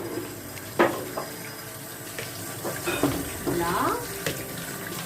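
Tap water runs into a sink while food is rinsed, a steady close splashing with small clatters and knocks of handling scattered throughout.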